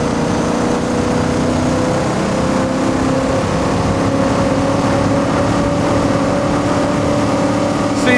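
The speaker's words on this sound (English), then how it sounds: "See the AI, they rev these cars way too much." Simulated 1977 Holden and Ford muscle cars racing at Bathurst in Assetto Corsa, V8 engines held at high revs in a loud, steady droning roar with a faint voice briefly under it.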